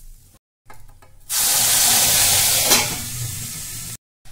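Onion and garlic paste dropped into hot oil with cumin, dried red chillies and asafoetida bursts into a loud, hissing sizzle that holds steady for a few seconds and then cuts off.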